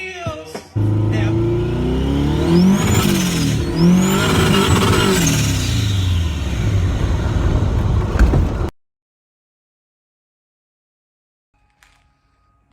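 A Volkswagen Karmann Ghia fitted with a Subaru engine revs hard while its wheels spin, a loud, close, sustained roar with rising and falling pitch for about eight seconds before cutting to near silence.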